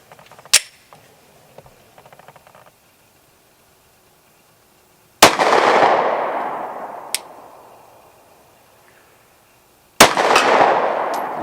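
A Glock 43X pistol fires three sharp shots a few seconds apart. The reports are loud and close, and each one leaves a long ringing echo as it dies away, with a faint metallic clink between the shots.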